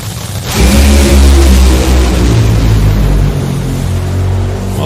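A Top Fuel dragster engine on a qualifying run, running with a cylinder out and a ball of fire, heard as a loud, sustained, rumbling roar that rises sharply and then holds steady.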